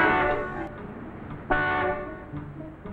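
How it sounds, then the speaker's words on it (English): Car horns honk in 1950s American rush-hour street traffic, a long sustained blare that cuts off, then another loud toot starts and holds. "Will you stop honking, Mac?"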